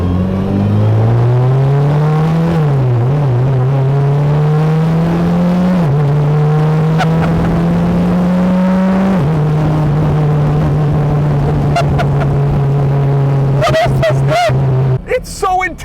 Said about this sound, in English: Insanely loud, unbelievable noise from right behind you.